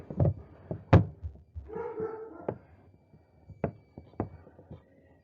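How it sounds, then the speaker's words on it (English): A dog barks a few times in the background, short scattered woofs with a brief whimpering whine between them, moderately distant and no talk. "barking in the background"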